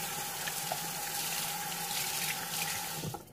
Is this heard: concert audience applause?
no